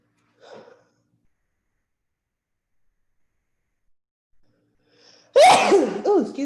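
A single loud, close sneeze bursts out near the end after a faint breath and near silence, during an online webinar.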